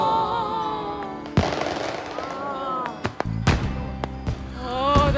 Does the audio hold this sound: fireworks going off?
yes